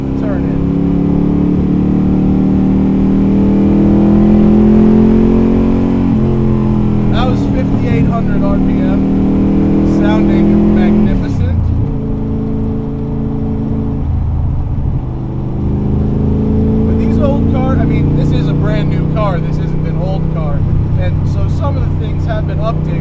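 A Superformance 1965 Shelby Daytona Coupe, a tube-frame car, pulls hard under acceleration while driving, the engine note climbing through the revs, dropping at shifts and rising again, loud and close with the driver talking over it.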